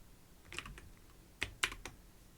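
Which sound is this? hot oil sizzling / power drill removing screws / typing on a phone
typing on a phone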